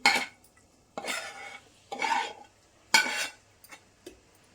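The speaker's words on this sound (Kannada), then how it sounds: "ಈಗ ಇದು ಕೂಡ ಚೆನ್ನಾಗಿ ಮಿಕ್ಸ್ ಮಾಡ್ಕೊಳ್ಳೋಣ" Ingredients for a healthy breakfast being mixed in a bowl, four distinct scraping stirs of roughly half a second each, close and clear, followed by a couple of lighter taps, with silence between strokes.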